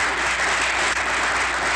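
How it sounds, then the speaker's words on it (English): An audience applauds at a graduation ceremony where certificates are handed out in a chapel, heard as a dense, continuous wash of clapping throughout the short stretch. "Everybody applauding."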